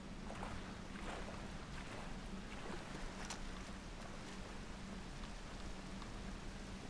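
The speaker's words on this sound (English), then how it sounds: "There's obviously a waterfall somewhere." A waterfall gives off a constant, even rush of falling water, a dense steady wash with no break and no voices.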